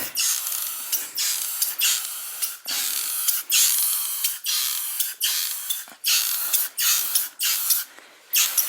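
Short bursts of aerosol spray paint coat the underside of a 1969 Ford Mustang 302 black, a rapid series of hissing blasts broken by brief clicks and pauses, close and steady with no talk.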